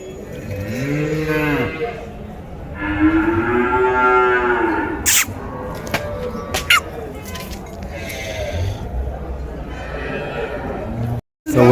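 Cows at a busy cattle market low with long, loud moos, two drawn-out calls up close followed by fainter ones, while people talk in the background.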